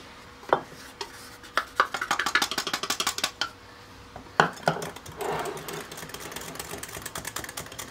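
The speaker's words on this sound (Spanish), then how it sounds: "vamos a hacer de una vez el procedimiento de revolver la fécula de maíz con la leche" A utensil whisks cornstarch into milk for cajeta atole, giving a rapid run of close, clattering taps against the container and then a steadier swishing mix with a few sharper knocks.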